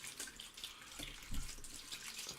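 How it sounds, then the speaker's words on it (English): Salad greens rinsed under a running tap, a soft continuous water rush with gentle splashing and a low thud as the leaves shift, faint and close. "It's past 20 minutes and I'm going to rinse"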